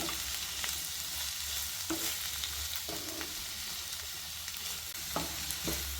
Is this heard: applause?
no